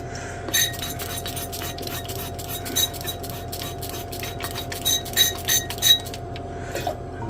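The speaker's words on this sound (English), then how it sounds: "And give the flask a good little rinse." A glass flask is rinsed during silver recovery from a sulfuric and nitric acid stripping solution, giving repeated light clinks and rattles of glass close by over a steady background hum.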